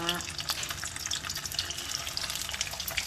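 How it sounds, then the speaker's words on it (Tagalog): Steady crackling sizzle of dried smoked fish frying in hot oil, with scattered sharp pops over a continuous hiss, close and moderately loud. "Prito naman tayo guys ng tinapa"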